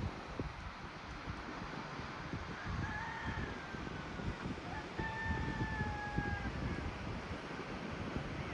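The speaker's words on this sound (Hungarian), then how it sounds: "Madeirán miért van kakasos ajtócsengő" A rooster-crow doorbell rings in Madeira, two drawn-out crowing calls sounding a few seconds apart over steady wind and outdoor rustle.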